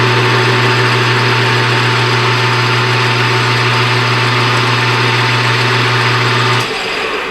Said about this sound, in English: We'll go ahead and we're going to drill the hole,